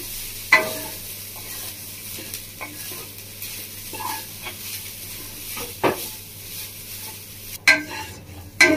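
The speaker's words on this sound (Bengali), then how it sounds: "ঘিয়ের মধ্যে নারকেলটা দিয়ে একটু ভেজে নেব ভালো করে, সামান্য 2-3 মিনিট মতো" Grated coconut frying in ghee in a pan for a pati shapta filling, stirred with a utensil; a soft steady sizzle runs under intermittent scraping strokes, with a few sharper clinks toward the end.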